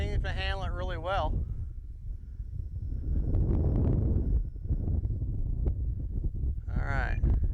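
Strong gusty wind buffets the microphone at an outdoor flying session with a small Arrows Viper RC plane, a steady low roar from start to finish, with people talking briefly at the beginning and end.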